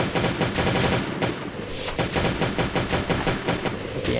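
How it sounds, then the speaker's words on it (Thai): Rapid, loud gunfire from the survival video game Last Day on Earth: Survival, dense bursts of automatic shots in a fast, continuous rhythm. "เราก็ยิงไปครับผม"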